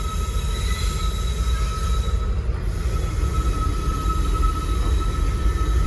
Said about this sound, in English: Got a Herzog train.